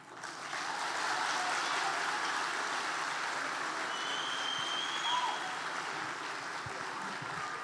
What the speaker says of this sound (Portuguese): Nunca deixe um irmão aplaudir sozinho,